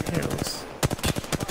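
Rapid gunfire in Apex Legends, with quick bursts of shots in close succession, a brief lull, then another fast volley, loud and near.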